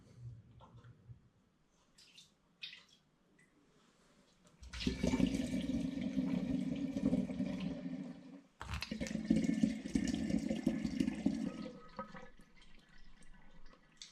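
Beer wort for a strong brown all-grain autumn ale pours and splashes into a glass demijohn in two sustained close gushes of running liquid, separated by a brief break, with fainter trickling before and after.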